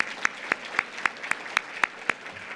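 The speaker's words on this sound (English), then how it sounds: "they definitely deserve a round of applause" Sparse, evenly spaced claps from a small audience at a space symposium women's luncheon, sharp single hand-claps in a steady rhythm, fairly close and alone without talk.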